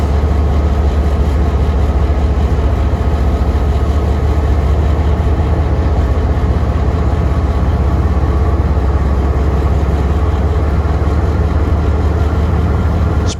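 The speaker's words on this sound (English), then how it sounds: "spreader 4033 can be seen clearing the right-of-way near Cascade Summit" Union Pacific snow spreader 4033 clears snow from the right-of-way near Cascade Summit, a continuous loud, dense rumble of train machinery and moving snow, steady throughout with no pauses.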